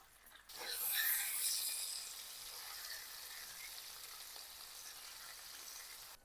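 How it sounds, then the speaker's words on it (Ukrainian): Oil hisses and sizzles loudly as chicken drumsticks go into a hot pan of vegetable oil, then settles into a steady, close frying crackle. "Гумілки потрібно обсмажити до готовності."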